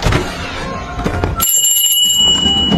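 A small hand bell rings out inside a house, its sharp metallic tones sustaining and ringing on over a dense, noisy film soundtrack.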